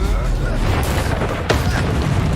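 Incendio fire spell bursting in Hogwarts Legacy, a loud booming blast over a steady roar of combat noise, with a sharp whoosh midway.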